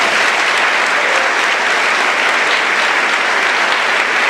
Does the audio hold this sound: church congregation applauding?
yes